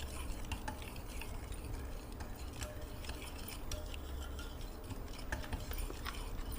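A whisk stirring an instant junnu mixture in a bowl: a fine, continuous scraping and swishing with occasional light metallic ticks, steady and close, with no talking.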